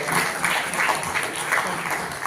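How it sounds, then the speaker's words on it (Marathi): An award ceremony audience at a newspaper's 15th anniversary event breaks into vigorous clapping, a full, sustained round of applause that swells in slightly rhythmic waves. "जरा सगळ्यांच्या जोरदार टाळ्या"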